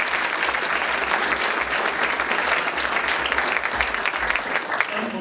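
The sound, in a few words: audience applause for intern class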